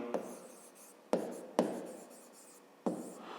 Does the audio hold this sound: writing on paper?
yes